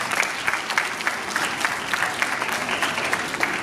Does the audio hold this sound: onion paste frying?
no